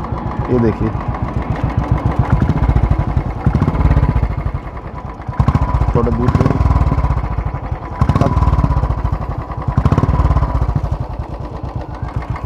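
A Royal Enfield Classic 350 motorcycle, five years old with about 25,000 km, runs with a loud, close, thumping beat whose revs swell and fall repeatedly while someone talks over it.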